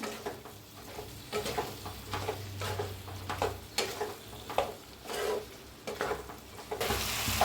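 Okra with masala and coriander is stirred in a frying pan, giving rhythmic scraping strokes over a soft sizzle, close and moderately quiet.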